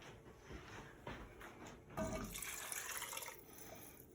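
Water pours into a pot of split pea soup on the stove, a soft continuous splashing and trickling close by, with no talking.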